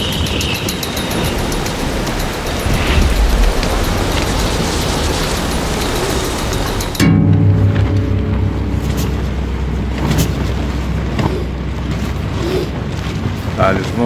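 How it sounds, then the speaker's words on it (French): Strong wind roars and buffets a cyclist riding through rain in Iceland, a constant loud rushing blast that shifts character midway, with no talk over it. "il y a vraiment trop de vent là"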